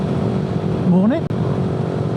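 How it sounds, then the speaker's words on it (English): A Lambretta or Vespa scooter engine passes by, a brief rising-then-falling whine swelling for about half a second over steady background engine noise, moderately close. "Lambretta or Vespa, one of the two"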